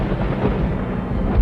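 Deep, loud rolling thunder from a raging storm rumbles continuously for a moment, heavy in the low end, with no voices over it.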